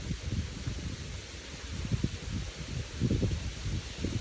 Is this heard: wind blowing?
yes